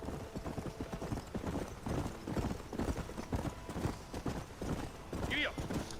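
Horse hooves clip-clopping at a steady gallop in the Red Dead Redemption video game. The hoofbeats are close and rhythmic and continue throughout, with a brief whinny near the end.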